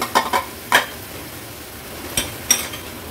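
A spoon stirs and scrapes vegetables with mung beans in a pan, a few sharp clinks and scrapes over a faint sizzle, close and otherwise quiet.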